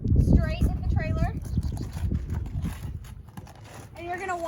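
Twister the horse steps into a horse trailer with hollow, uneven hoof thuds on the trailer floor, heard close while a person talks over them and a bird chirps several times in the background.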